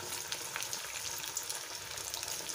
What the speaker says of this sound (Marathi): हे छोट्या छोट्या वड्या अशा कट करून घेऊया आपण आणि तळून घ्यायच्या